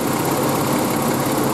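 Steady idle of a 1989-1995 Toyota pickup engine with the air conditioning running, a continuous even rumble with faint mechanical vibration, close and alone.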